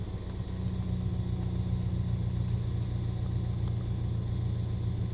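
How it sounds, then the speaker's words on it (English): A Ford EcoBoost engine held at a steady 2000 RPM, a continuous low, even rumble with no changes in pitch or level, heard alone. "So if I rev up, now I'm at a steady RPM."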